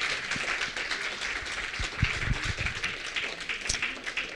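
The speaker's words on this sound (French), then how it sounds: "je propose qu'on les applaudisse pour cela" A crowd claps steadily at a gathering with Marek Halter at ECUJE to mark the first wedding anniversary of Marek and Marianne. The dense applause holds level throughout, with no talking over it.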